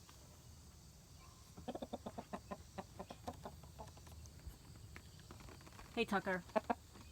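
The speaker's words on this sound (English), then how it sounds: "He's one of my roosters." A rooster clucks in a quick series of soft calls, then a few louder, closer clucks follow; a brief voice speaks in between.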